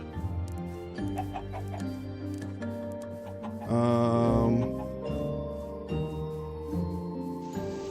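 Chickens in the Minecraft video game cluck in repeated short bursts at close range, over steady background game tones, with one louder, busier flurry midway.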